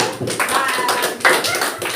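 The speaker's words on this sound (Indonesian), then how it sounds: "tepuk tangan untuk Ete" A classroom of students clapping for a favourite dancer, short uneven bursts of hand claps close by, with a few voices mixed in.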